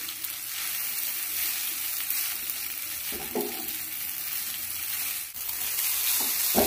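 Hakka-style chow mein noodles stir-fried with winter vegetables in a hot pan, a steady close sizzle with scraping stirs and brief clatters of the utensil against the pan.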